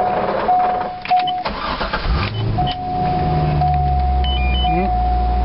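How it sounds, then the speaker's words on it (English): Corvette engine cranks and catches, settling into a low, steady idle rumble close by, with a faint electrical whine and talk around it. "It starts right up,"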